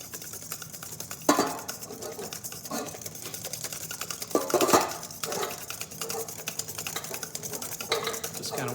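Hollandaise sauce thickening as a whisk scrapes back and forth in a pan, a steady fast rhythmic clatter with a few louder knocks against the metal, close and continuous.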